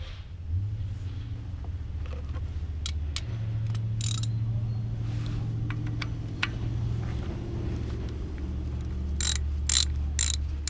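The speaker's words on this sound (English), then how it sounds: "Next, we need to remove this 10mm bolt that holds the coil in." Quiet ratchet clicks loosen a 10mm ignition coil bolt on a 2007 Toyota engine, short bursts of ratcheting and metal taps over a low steady hum, heard close with no talking.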